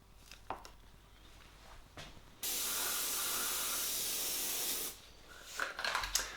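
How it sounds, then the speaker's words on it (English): A steady spray-can hiss of metallic silver paint onto a mountain bike frame runs for a couple of seconds, with quiet handling noises and light rattles before and after. "Let's spray some metal on the frame."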